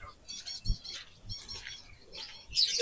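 Caged birds at a market in Kuwait give off scattered chirps, squawks and fluttering wings, moderately near, over a bustling background with occasional low thumps and a brief louder burst of activity near the end.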